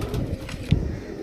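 Pigeons coo softly in a short, low murmuring burst, close by and without speech, with one fuller coo near the middle.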